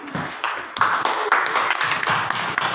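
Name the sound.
applause for the farmers group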